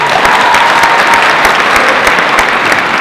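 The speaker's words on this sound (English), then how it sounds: "All applause for that team who put that together." Dense, steady applause from an audience at a student debate, filling the whole stretch with loud, continuous clapping and no break.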